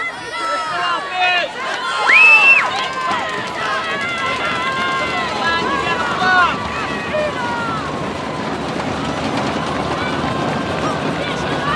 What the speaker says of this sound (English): Southeast crowd is hyped up.